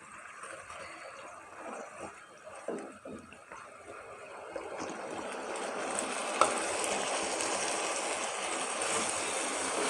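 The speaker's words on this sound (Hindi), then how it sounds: "इसमें हम चावल शामिल कर देते हैं अपने।" Rice tipped into a pot of melted sugar syrup thinned with water for degi zarda mutanjan, cooking over the flame with a steady sizzling, bubbling hiss that swells and grows louder as the grains settle in, alone without talk.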